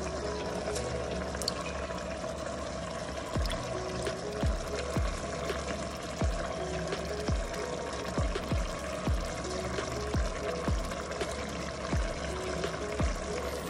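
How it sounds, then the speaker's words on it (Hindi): Soaking water being drained off rice while making prawn biryani, a continuous trickling, splashing pour with irregular drips, close and steady throughout. "ये देखें मैंने पूरा पानी निकाल लिया।"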